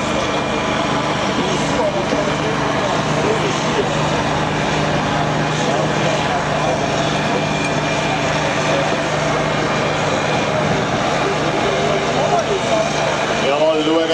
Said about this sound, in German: Und zieht hier den Bremswagen ebenfalls spinnend vorwärts.